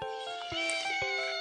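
A cat meows in a children's zoo rhyme, giving a short, clear, drawn-out mew over steady musical tones.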